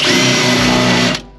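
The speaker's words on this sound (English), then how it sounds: "After we drill these holes, we're gonna have to vacuum it again because there's gonna be metal everywhere." A power drill boring holes in metal on a Nissan 350Z whines steadily at high speed for about a second, then cuts off abruptly, leaving quiet.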